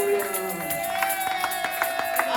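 Church congregation cheering and acclaiming the Lord, a lively crowd of overlapping voices with scattered claps and shouts, steady and fairly loud, with a sustained sung or shouted tone running through it.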